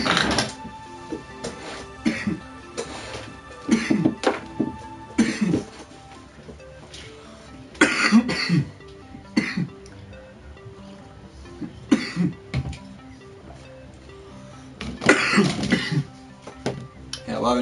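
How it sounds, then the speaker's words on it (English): Repeated coughs and throat clearing at close range, arriving in separate bursts every second or two across a long stretch, with quiet gaps and faint background noise between them. "Coughing."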